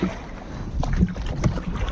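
A wooden oar paddles a traditional Kerala sea fishing boat, giving a couple of soft splashing strokes over steady wind and water noise out at sea.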